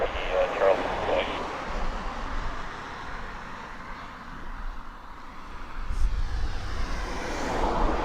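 Aircraft engine noise at Lakenheath airfield, a steady broad roar that swells toward the end as the plane draws nearer, with people talking over it.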